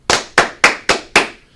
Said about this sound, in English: You get the number of claps for the number of dollars.